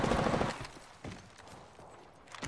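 Video game gunfire: a dense burst of loud shots at the start, then a few sharper isolated reports scattered through the rest, with no one talking.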